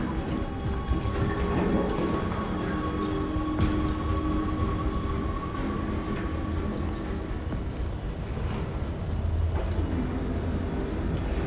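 Steady rain drumming on a tin roof with low rumbles of thunder in a rainy scene from Detroit: Become Human, a dense continuous wash throughout with faint voices under it.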